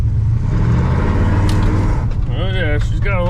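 A 1980 Chevy C30 dually pickup, revived after 26 years, spins its tires on gravel, a loud close engine rumble and revving over crunching grit, with someone talking over the end.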